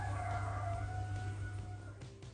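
Roosters crow faintly in the early morning in a Wuyuan village, a thin distant call trailing off over a constant low rumble.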